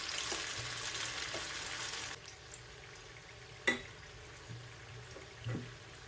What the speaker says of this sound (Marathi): बाकीचे बॉल्स हे आपण फ्राय करून घेऊया